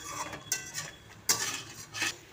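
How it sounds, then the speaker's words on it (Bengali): A spice masala with chili and a pinch of sugar is stir-fried in a pan for an egg and potato curry: quiet spatula scrapes and clinks come in a few separate strokes over a faint sizzle. "এবার আমি মশলাটাকে ভালো করে কষিয়ে নেব।"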